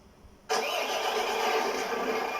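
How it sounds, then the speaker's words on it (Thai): A Kubota HGP407 engine cranks and catches with a sudden burst of noise, then settles into a steady, loud running roar. "สตาร์ทเครื่องยนต์ครับ"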